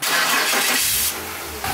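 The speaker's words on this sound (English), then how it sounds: "Okay, start the car." A BMW car engine cranks and catches, a loud broadband rush of starting noise that settles into a steadier, quieter running tone near the end.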